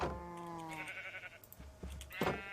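Sheep bleat in the Minecraft video game, a few clear nasal calls close by over a quiet background.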